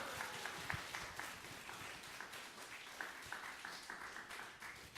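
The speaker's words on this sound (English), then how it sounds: "Let's give her a big round of applause." An audience applauds at an anniversary celebration, a steady patter of many hands clapping at some distance, fairly quiet and sustained without a voice over it.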